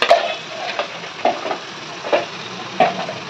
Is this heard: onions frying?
yes